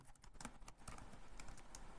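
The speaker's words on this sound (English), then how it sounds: "I'm here typing." Quiet, rapid tapping of keys on a computer keyboard, an irregular run of clicks carrying steadily through the two seconds with no voices.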